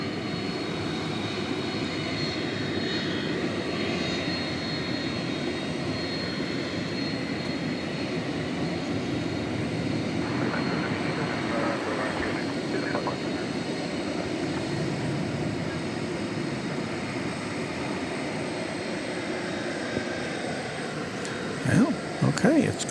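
A distant jet airliner rolls for a full-length takeoff on runway 18 left at DFW Airport at night, a steady broad engine roar holding throughout, with a few brief clicks near the end.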